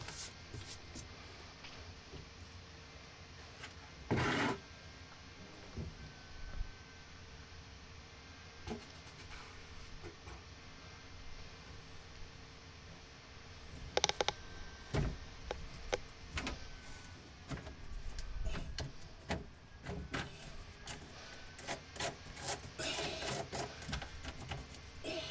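A drain-cleaning sewer machine runs to clear a clogged bathroom sink drain, heard as quiet mechanical whirring and rattling with intermittent clicks and clatter that grow busier toward the end.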